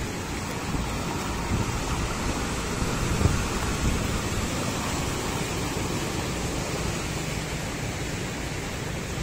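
Heavy typhoon rain on flooded Roxas Boulevard in Manila makes a steady, dense roar of water, broad and unbroken like hiss or surf, with no voices over it.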